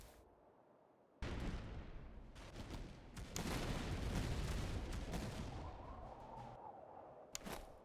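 Battlefield gunfire in the strategy game Master of Command, Austrian border troops engaging an artillery position: a sudden burst of crackling musket volleys and booming shots, dense and sustained, with a sharp crack near the end.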